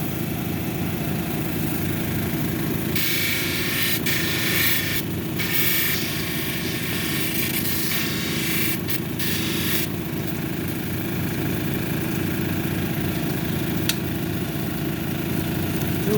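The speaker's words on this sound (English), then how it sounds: "Now we're going to move on to 280 grit to take off the marks from that 220 grit." Lapidary grinder sanding a banded amethyst cabochon at 280 grit: a steady motor hum throughout, with hissing bursts of stone against the wheel from about three to ten seconds, then the machine running alone.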